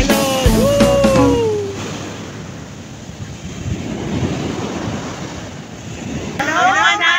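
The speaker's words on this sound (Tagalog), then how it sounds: "Lakas ng alon" Strong surf rolls in on a Hawaii beach, a loud continuous wash of breaking waves with wind buffeting the microphone; a brief whoop of voices at the start and again near the end.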